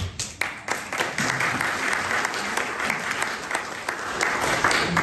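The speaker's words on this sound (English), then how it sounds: "we can kindly do so with an indication of our applause" Dinner guests at a welcome banquet held in a private home applaud together, steady dense clapping throughout, close and fairly loud with no talking over it.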